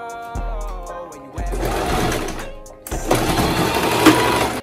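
A sewing machine stitching fabric onto a cap runs in loud, close bursts of rapid mechanical whirring, stopping and restarting several times, with music playing underneath.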